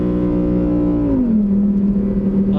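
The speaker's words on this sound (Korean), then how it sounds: "지금 뒤쪽에서 밀려오는 이 엔진 사운드가 들리실지 모르겠는데" A Lamborghini Huracán EVO's engine drones loudly from inside the cabin on the Inje Speedium track, its pitch dropping partway through before settling into a steady hum.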